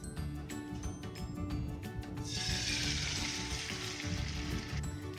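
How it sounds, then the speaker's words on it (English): Eggs hit an oiled pan and break into a sudden loud, bright sizzle that holds steady and close, following a few seconds of quieter crackling oil and clatter. "After the oil soaks in, let's add the eggs."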